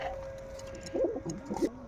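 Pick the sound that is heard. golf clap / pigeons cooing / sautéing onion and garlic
pigeons cooing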